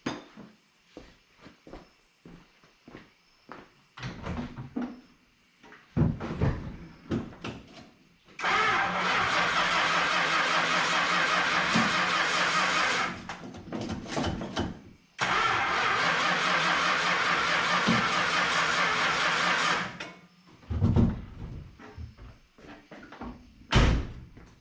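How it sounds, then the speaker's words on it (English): Car engine fitted with a freshly rebuilt Carter BBD two-barrel carburetor cranking in short bursts amid clunks and knocks, then catching and running loudly in two sustained stretches of about five seconds each, followed by more clatter, with no talking. "Got to get it crank enough to get the fuel up into the system, but it cranked right up."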